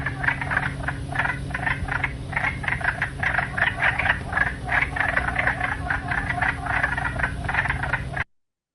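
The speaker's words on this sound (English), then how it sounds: "And the harsh quacks of the slightly larger wood frog." A chorus of wood frogs makes harsh, duck-like quacking croaks in rapid, overlapping bursts, loud and continuous until an abrupt stop.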